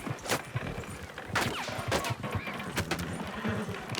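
Lawmen's gunfire in the video game Red Dead Redemption 2, heard as a series of sharp, moderately distant shots at irregular intervals over a rumbling background of movement.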